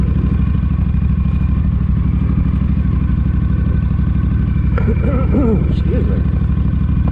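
A Honda VTX 1300 motorcycle engine idles loud and close with a steady rapid throbbing pulse, and a voice speaks briefly over it near the end.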